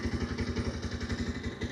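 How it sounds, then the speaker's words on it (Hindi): A Honda SP 125 motorcycle engine idles steadily up close, its low, even pulses thumping in a fast regular rhythm with a light mechanical clatter and no talking. "अब आप आइडियल कंडीशन पर इंजन साउंड सुनिए इस बाइक का,"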